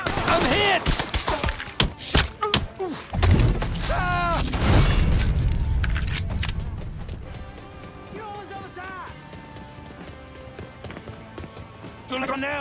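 Gunfire in the video game Mafia 3, with sharp shots and bursts crowding the opening seconds before easing to sporadic cracks, heard amid shouting voices and a continuous game soundtrack.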